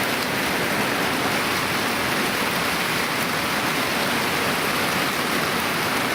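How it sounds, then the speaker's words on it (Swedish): Heavy pouring rain in Älvsbyn, Sweden, in August, a dense, steady hiss of downpour that stays loud and unbroken throughout with no voices. "Idag regnar det."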